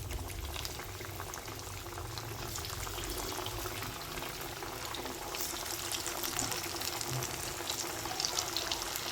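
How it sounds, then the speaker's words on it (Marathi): Bajra flour battis fry in hot oil with a steady, busy bubbling sizzle throughout. The sound is moderately close and holds even, with no talking. "तर आता आपण सर्व बट्ट्या तळून घेऊया"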